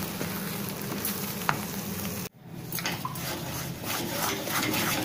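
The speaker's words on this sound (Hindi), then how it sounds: "काजू का पाउडर हम इसको अच्छी तरह से मिलाएंगे और धीमी आंच ही रखेंगे, जिससे ये और अच्छी तरह से हमको इसको चलाना है" Cashew powder mixture stirred in a pan over low heat while making a halwai-style cashew sweet, giving a steady soft scraping sizzle that briefly cuts out midway, then resumes.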